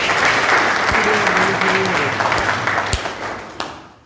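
Loud, dense applause from an audience at a coaching class event in Jodhpur, sustained and close, tapering off toward the end with a few final claps.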